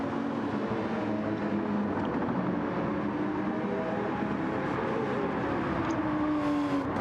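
McLaren GT3 race car engine in a sim racing game, a continuous droning roar held at steady volume with shifting pitch as the car runs through the gears, no talk over it.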